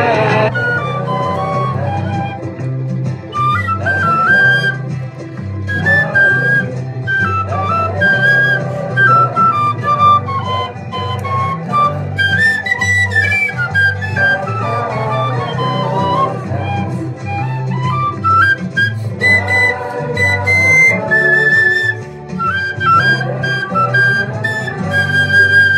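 An Irish tin whistle plays a melody, its bright, sustained notes rising and falling over steady, full accompaniment that stays loud and even throughout.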